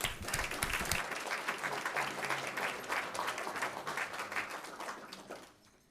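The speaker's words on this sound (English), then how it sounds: "Another round of applause." Audience applause at a school district regular board meeting, a sustained round of clapping from a room of people that gradually fades out at the end.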